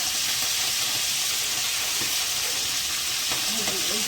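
Methi greens and chillies hitting a hot tempering, loud continuous hissing sizzle close up with light stirring, steady throughout with no talking.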